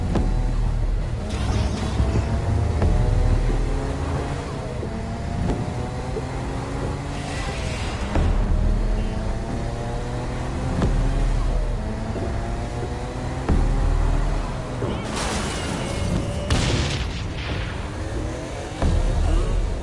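A car driving in Saints Row on a PS4, its engine droning steadily with repeated rising rev sweeps as gears climb, loud and continuous, with brief thumps and some speech mixed in.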